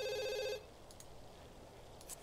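Telephone ringing in The Sims 2 video game: a bright, loud electronic tone that stops abruptly after about half a second, then quiet room ambience with a few faint soft taps.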